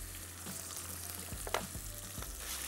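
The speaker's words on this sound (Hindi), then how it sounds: "इसको हमने फ्राई कर लेना है।" Julienned chicken breast fries with garlic in a pan, giving a steady, close sizzle with occasional stirring scrapes and clinks over a low background hum.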